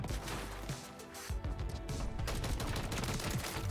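Gun shots from a slow-firing weapon in a Call of Duty game, a steady series of spaced, punchy reports amid a dense, loud mix of game battle noise.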